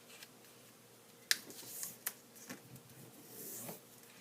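Sheet of origami paper being folded in half for a shirt model: quiet rustling with a few crisp creasing snaps and sharp taps, close and soft overall.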